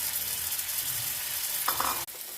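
Onions with salt and turmeric frying in mustard oil alongside dried fish, giving a steady close sizzle with stirring scrapes and a short clatter near the end.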